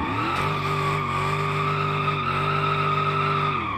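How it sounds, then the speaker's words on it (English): Sustained tire squeal of a drifting car spinning out in the BeamNG driving simulator, a loud steady screech with engine tone underneath, held continuously for several seconds before tapering off. "Oh, I spun out again."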